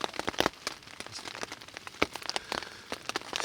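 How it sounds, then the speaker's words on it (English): Rain falling outdoors on a black bear hunting trip, with distinct close raindrops pattering irregularly on a nearby surface over a soft steady background hiss. "This rain has just been brutal, man."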